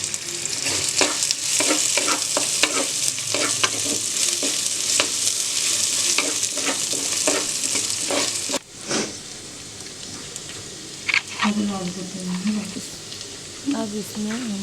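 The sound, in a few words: frying finely chopped onion in a clay kadai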